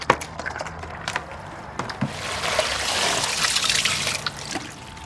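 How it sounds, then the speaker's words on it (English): Water pours into a container of clay, making a close, steady trickling and splashing that builds in strength and then eases off near the end. "then fill it well with water so that it is saturated and dissolves large pieces"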